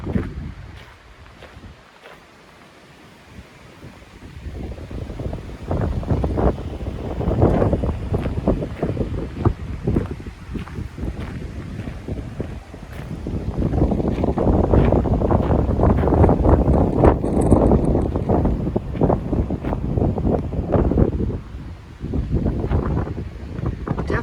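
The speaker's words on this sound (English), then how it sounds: "definitely on the windy side today." Strong wind buffets the microphone in a continuous roar at a coastal campground at Cape Blanco, Oregon, easing slightly for a few seconds and then gusting harder again.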